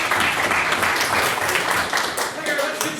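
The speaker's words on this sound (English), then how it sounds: "Could we please get another applause for another marvellous maiden speech?" Crowd applause follows a maiden speech at a formal debate on open relationships, a dense steady wash of clapping that stays loud and even throughout, with some murmured voices mixed in.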